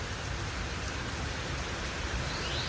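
Rain pours steadily outdoors, a dense, uniform hiss of drops hitting surfaces, loud and unbroken, with no voices.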